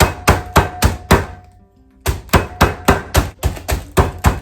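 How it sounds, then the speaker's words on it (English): Meat mallet crushing gluten-free vanilla wafers for a pie crust: a steady run of sharp, loud thuds, about five strikes, a brief pause, then eight more in even rhythm, close and with no talk. "Let's try the meat mallet."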